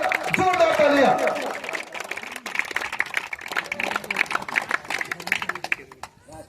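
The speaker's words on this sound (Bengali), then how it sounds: "সম্মানীয় মন্ডল লস্করের জন্য জোরদার তালিয়া" An audience at a village cricket match claps in a sustained burst of dense, fairly loud applause. A voice speaks over the start of it, and the clapping tapers into scattered claps near the end.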